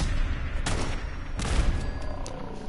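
In the Fallout 4 video game, gunfire aimed at a turret comes as several sharp bursts of shots over a continuous low rumble of background noise.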